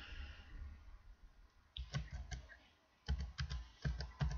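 Typing on a computer keyboard, quiet at first, then bursts of sharp close key clicks in short rapid clusters with brief pauses between them.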